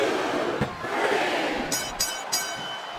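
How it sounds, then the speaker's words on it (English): A large crowd in the wrestling video game WWE SmackDown vs Raw 2007 roars and cheers in a continuous wash of noise, with a few sharp bursts of excitement rising near the end. "I think these superstars are getting some feedback from the crowd, JR."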